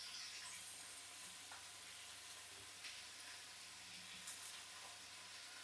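Curry leaves, green chilies and salt frying in a pan, a soft steady sizzle and hiss with faint crackles, quiet and close, alone.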